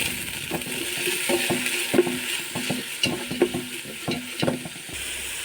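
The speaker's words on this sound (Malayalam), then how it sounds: "ഉപ്പ് ആഡ് ചെയ്തതിന് ശേഷം നല്ലോണം ഒന്ന് വഴറ്റിയെടുക്കുക" Onions with a little salt sauté in hot coconut oil, a steady sizzle broken by repeated scraping strokes of a spoon stirring in the pan, close up.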